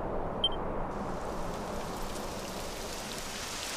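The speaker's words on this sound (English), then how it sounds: "It would have to go and start raining, wouldn't it?" Steady rain begins falling in the video game Dragon Quest XI, a dense even hiss that stays constant and moderately loud, with no talking over it.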